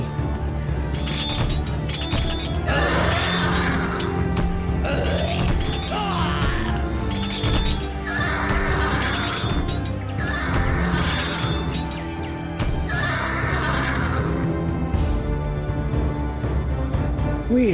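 Horses whinny repeatedly amid a dense, clattering cavalry battle in the Empire Earth strategy game's Greek campaign, loud and continuous with crashes and clashing underneath.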